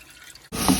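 Cold tap water pours over cooked spaghetti in a sink, starting abruptly as a steady, close rushing splash that continues to the end of the moment.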